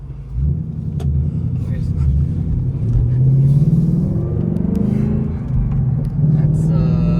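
A Ford Mustang engine idles and then revs through its stock active exhaust, the exhaust rumbling deep and rising in pitch, with people talking over it.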